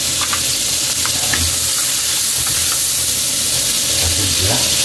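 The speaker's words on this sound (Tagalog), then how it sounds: "mag-umpisa natin mag-igisa" Garlic sautéing in a hot pan for a fish dish, a loud steady sizzle and frying hiss throughout, close up, with faint stirring underneath.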